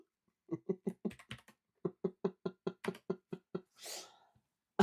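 Someone types on a computer keyboard in a steady run of close, crisp key clacks, about a dozen presses with a brief pause, then a longer rustling sweep.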